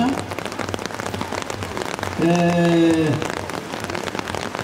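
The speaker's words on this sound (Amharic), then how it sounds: "በመጠለያ አካባቢ ያልሆናችሁ እንግዲህ ይሄ ዝናብ በቀጥታ የሚያገኛችሁ" Steady rain patters on a surface at an outdoor church gathering in Ethiopia, a dense continuous hiss through the whole stretch, with a brief tonal hum rising over it midway.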